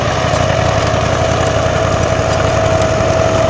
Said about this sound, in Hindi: ये बड़ा वाला ट्रैक्टर है